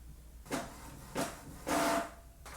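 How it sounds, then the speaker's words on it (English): Canon Pixma TR7820 printer feeding and printing a page, giving three separate mechanical whirring passes spread over a couple of seconds, close and moderately loud, with a fourth one starting. "and the print should come out."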